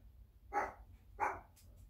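Two short dog barks sound at moderate distance in a quiet kitchen, separated by a brief pause, with a faint third yip at the end.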